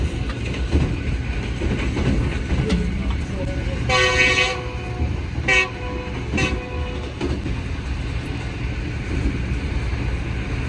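A Green Line passenger train on the Lahore to Karachi route rumbling through Sahiwal railway station without stopping, with a steady loud rolling roar and a few brief horn-like tonal bursts in the middle.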